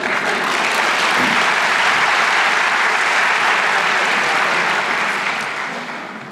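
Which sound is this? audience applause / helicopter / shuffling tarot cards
audience applause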